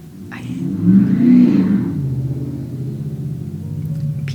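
A loud truck engine revs outside, swelling to a peak early on and then settling into a steady low rumble that carries on to the end, with no voices over it.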